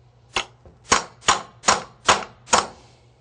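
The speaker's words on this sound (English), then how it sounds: "we will use our last board puller in order to engage the two boards" A board puller tapping laminate flooring planks together in a bathroom: six sharp, evenly spaced knocks, close and crisp, with no talking.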